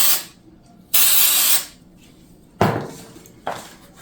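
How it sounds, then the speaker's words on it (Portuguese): Spray adhesive hissing from an aerosol can onto foam-backed nylon in three short bursts, the first longest, close and loud with quiet gaps between. "Vou aplicar aqui uma camada de cola spray"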